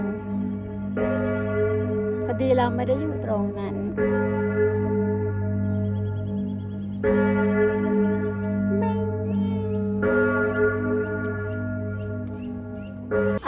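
Large clock tower bell in Graz ringing noon, sustained layered tolling with rich ringing overtones that fill the whole stretch, loud and near, with brief speech and a bird or two faintly in the background.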